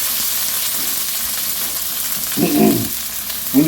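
Cold vegetables hit a very hot skillet with a loud, steady hiss of frying, close and unbroken, with a couple of short low clanks of a utensil near the end.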